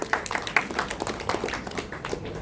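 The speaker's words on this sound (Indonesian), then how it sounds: "Tepuk tangan buat beliau." An audience applauds a guest, a former Supreme Court chief justice, at a 50th birthday gathering, with many hands clapping in a dense, fairly faint patter that continues steadily.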